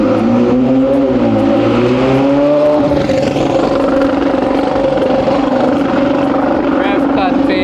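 A Ferrari 12Cilindri V12 race car revs hard on the main straight at Clark Speedway, its engine note climbing and then holding a loud, sustained roar.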